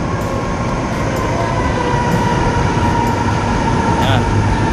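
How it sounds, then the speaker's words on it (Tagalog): An MRT metro train arrives at Centris Station, a loud continuous rumble and rolling roar with steady mechanical noise throughout, close by. "Dumating na yung MRT."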